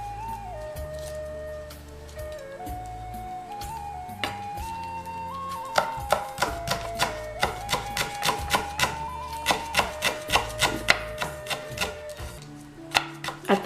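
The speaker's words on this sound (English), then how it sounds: "she's just slicing everything up or chopping everything up into smaller pieces" A knife chops lemongrass paste ingredients for Cambodian kroeung on a cloth-steadied wooden board, quick sharp knocks in rapid bursts under light background music, growing busier midway.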